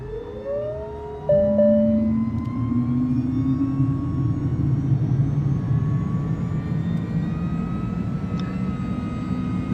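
A simulated Cirrus Vision Jet SF50 G2 turbine engine in Microsoft Flight Simulator spools up with a rising whine and deepening roar, quickly building into a loud, steady drone that continues to the end.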